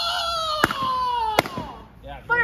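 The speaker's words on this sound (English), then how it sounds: "Yeah, fireworks!" Celebratory fireworks at a summer competition finale: two sharp broadband bangs stand out against a steady high whistling tone and other background sound, and people shout near the end.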